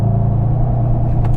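Mercedes-Benz E63S launching at full throttle with launch control, a loud, steady low engine roar and road rumble close by, with no voices over it.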